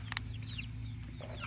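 Soft clucking from backyard hens and roosters kept at a barn, with a few chirpy bird calls, fairly faint over a low steady hum, no voices.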